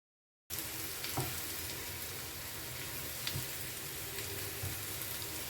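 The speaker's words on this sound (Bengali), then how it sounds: "এগুলো সুন্দরভাবে ভাজা হয়ে গেছে" Okra (ladies finger) frying in a pan, a soft continuous sizzle with faint crackles and a couple of light utensil taps, fairly quiet and without talk.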